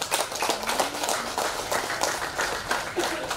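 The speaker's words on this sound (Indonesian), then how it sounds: "Tepuk tangan untuk Pak Andi" Audience applause at an electricity connection aid program inauguration ceremony in Sulawesi, Indonesia, a steady wash of many hands clapping throughout with faint voices underneath.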